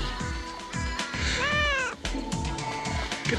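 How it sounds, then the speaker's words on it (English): A young calico cat meows once, a clear rising-and-falling cry near the middle, close by amid low room noise and a faint tapping rhythm. "She's a little baby calico cat."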